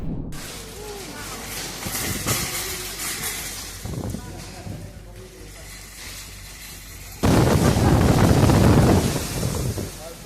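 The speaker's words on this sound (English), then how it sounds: "It seems the wind decided to take these carts on a free sightseeing trip today." Strong wind buffets the microphone with a steady roar and gusty rumble through the whole stretch, swelling into a louder blast near the end.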